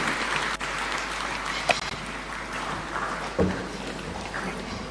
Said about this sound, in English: give him a warm welcome with a clap as he comes to make his remarks